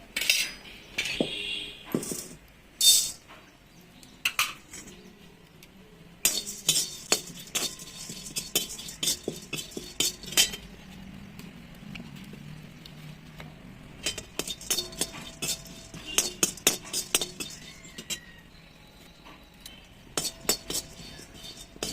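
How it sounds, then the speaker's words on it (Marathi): Dal roasting in an iron kadai on a wood-fired stove while being stirred, heard as repeated metallic scrapes and clinks of a spoon against the pan in irregular bursts with quiet gaps. "आता मी डाळ्या भाजून घेते"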